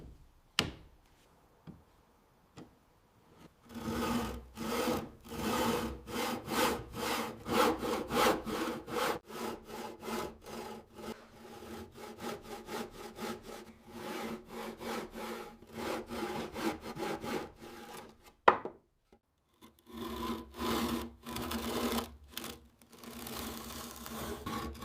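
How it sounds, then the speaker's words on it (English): Japanese pull saw cutting through wood with a thin blade, a steady run of rapid rasping strokes, close and loud, with a brief pause near the end before sawing resumes; no talking. "Japanese saws cut on the pull stroke."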